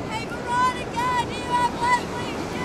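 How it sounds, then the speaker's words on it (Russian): Ocean surf along the Costa Rica coast washes in a low, continuous roar, with wind buffeting the microphone in gusts and a few thin tonal whistles rising over it. "Обалденный океан."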